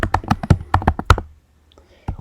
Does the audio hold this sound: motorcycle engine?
no